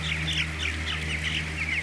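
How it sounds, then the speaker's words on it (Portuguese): Broiler chickens in an industrial poultry house in Portugal cluck and chirp in a dense, continuous chorus, many birds calling at once over a steady low ventilation hum. "Os frangos que existem estão a pinicar no solo"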